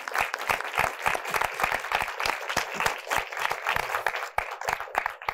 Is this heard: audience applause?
yes